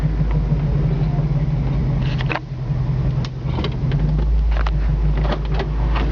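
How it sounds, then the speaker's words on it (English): Steady low engine rumble from a 1965 Ford Mustang convertible's exhaust, a constant near drone holding through the whole stretch with a brief dip midway and faint road noise above it. "It's got a nice sounding exhaust."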